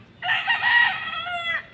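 A fighting-cock rooster crows once, a loud close cock-a-doodle-doo lasting over a second with a strained, rising then trailing call, standing alone over faint background noise.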